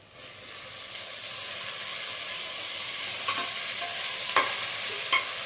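Three tomatoes sauté in a pan for sambar, a steady sizzling hiss with occasional stirring scrapes and soft taps, fairly quiet and without talk.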